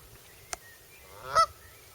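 A Canada goose lets out a single short, nasal honk at moderate distance, with a faint click just before and no voices in the background.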